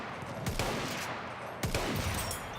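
Gunshots in the Battlefield 1 video game: two sharp cracks about a second apart, each followed by a short echoing tail, over a faint steady background.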